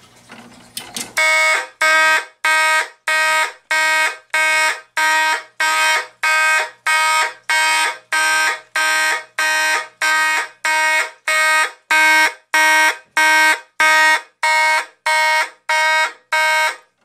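A Simplex 2903-9005 fire alarm horn with a 9806 light sounds in march time on a Simplex 2001 system test: a loud, harsh blaring horn pulsing in an even, rapid on-off rhythm of about twenty blasts.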